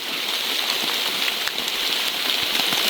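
Steady rain pours down in a dense, even hiss, with drops pattering on a surface throughout, fairly loud and close.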